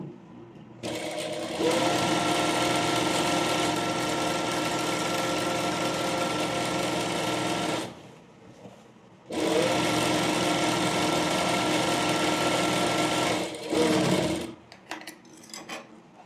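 A sewing machine stitching a layered frill frock runs in two long steady bursts separated by a short pause, close and loud, ending with a brief spurt and a few clicks.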